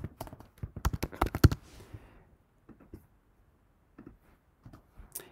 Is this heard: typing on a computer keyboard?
yes